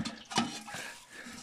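A brief splash and trickle of water poured onto newly planted banana plants, soft and close, lasting only a moment.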